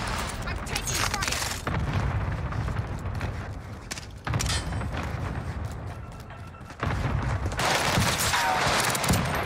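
Dense, continuous gunfire and explosions rumble through a Call of Duty match on Rebirth Island at night, with bursts and booms layered throughout and heavier volleys near the start and end.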